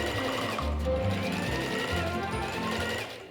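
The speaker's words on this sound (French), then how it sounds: "Piquez à 1 cm du bord. Il y a beaucoup d'épaisseur, surtout au niveau de la ceinture." A sewing machine stitching through thick layers of denim jeans near the waistband, a continuous fast mechanical chatter with a steady low motor hum, close and alone.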